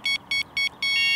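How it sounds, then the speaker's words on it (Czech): A Mivardi M1350 wireless bite alarm gives three short, clear electronic beeps at an even pace and then one unbroken steady tone, loud and close with no other sound. "v tuhletu chvíli hlásiče vydávají nepřetržitý zvuk, vydávají neustále záběr"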